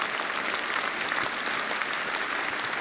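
A large crowd applauds at a Jean-Luc Mélenchon political rally in Nantes, a thick, continuous wash of clapping with no breaks, loud and even.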